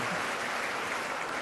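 A church congregation claps loudly and steadily, a dense wash of many hands applauding together without pause.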